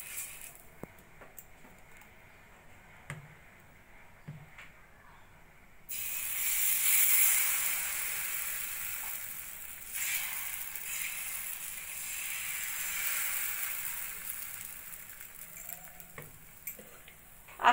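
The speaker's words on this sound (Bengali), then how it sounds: "এই একইভাবে সব রুটিগুলোই আমি ভেজে নেব" Rice roti made from gobindo bhog rice fries in a pan with a steady soft sizzle that swells after a quiet start and holds through the rest, with a few faint clicks and a sharp knock at the end.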